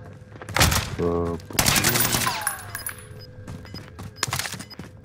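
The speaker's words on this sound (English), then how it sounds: "They're gunshots," Bursts of gunfire in an online shooter match, sharp cracks and rapid volleys scattered across a few seconds, some close and loud, others farther off, with voices talking over the shots.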